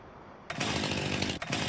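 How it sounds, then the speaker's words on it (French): A chainsaw in Farming Simulator 19 kicks in abruptly after a short stretch of quiet hum, roaring loudly and steadily with a brief dip near the end. "et donc oui ma tronçonneuse aussi"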